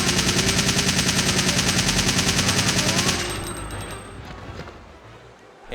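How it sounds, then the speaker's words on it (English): Video game gunfire: rapid, evenly spaced automatic shots loud and close for about three seconds, then stopping abruptly, leaving a fading mechanical rumble with a soft thud at the end. "Just going to go ahead and open fire."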